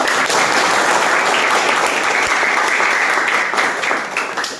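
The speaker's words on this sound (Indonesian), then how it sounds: "kita berikan aplaus" An audience breaks into loud, dense applause that holds steady and then begins to taper off near the end.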